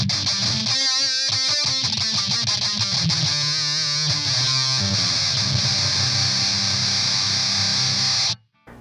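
Heavily distorted electric guitar through an MXR Fullbore Metal pedal with mids scooped and highs boosted, fast chugging riffs that settle into a held chord, then a sudden cut to near silence.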